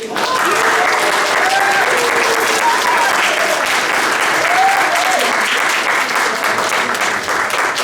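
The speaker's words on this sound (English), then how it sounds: "A round of applause, please." A theater audience at an Encore Players Halloween show bursts into dense, loud, sustained applause that fills the room from start to finish, with a few voices whooping and calling over the clapping.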